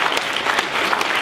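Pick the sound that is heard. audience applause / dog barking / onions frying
audience applause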